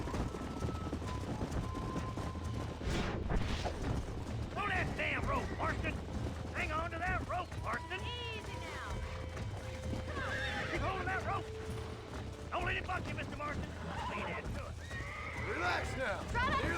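Horses in the Red Dead Redemption video game whinny and neigh repeatedly with clip-clopping hooves, all close and loud over a dense game soundscape of music and effects, with people talking throughout.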